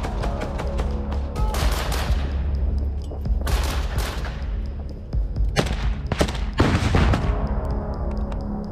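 Sustained battlefield gunfire during combat in Ukraine, with dense volleys of automatic and rifle shots and sharp loud bursts repeating over a constant low rumble, close and heavy throughout.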